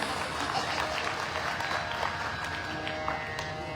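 Listeners at a Shrimad Bhagwat Katha religious discourse in Ratlam, Madhya Pradesh, clap in a continuous, busy wash of many hands, steady and fairly loud throughout.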